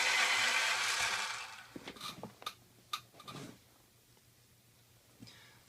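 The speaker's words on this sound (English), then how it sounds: "Hold on, let me sharpen this." A pencil is sharpened during a perspective drawing lesson: a dense, scratchy grinding for about two seconds, then a few scattered light taps and clicks before it goes quiet. No one speaks.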